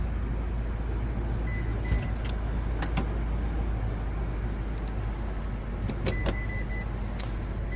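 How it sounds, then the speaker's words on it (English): Power seats in a Lexus LX570 whir up and down in short electric-motor bursts, repeated several times at close range amid quiet cabin background, with small clicks between movements. "Go ahead and cycle these seats for you."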